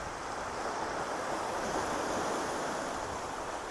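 Sea waves roll onto the beach at Madiguddi, Bailur, a constant broad wash of surf with some wind noise on the microphone, steady and fairly quiet throughout.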